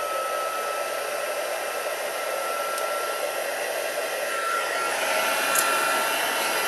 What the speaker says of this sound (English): And then I'm going to heat set this before I do the other side stamping,